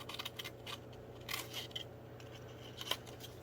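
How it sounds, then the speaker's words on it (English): Scissors snip through a folded Christmas card, producing a few faint, close crisp cuts and papery crunches spaced irregularly over a low background hum. "I'm going to first cut at that bottom seam into my score line, and then I'm going to cut"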